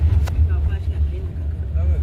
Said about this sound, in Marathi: हे बघ कसली जाते गाडी